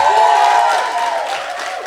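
Crowd cheering and clapping for a contestant, a sustained loud roar of voices with whoops that eases slightly toward the end.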